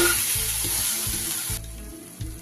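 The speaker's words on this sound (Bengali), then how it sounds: "যতক্ষণ না সুন্দরভাবে মশলাটা থেকে তেল ছাড়ছে এইভাবে কষিয়ে যাবে" Spice paste for doi katla fries in oil with a loud, close sizzle and rhythmic stirring scrapes, the hiss easing partway through.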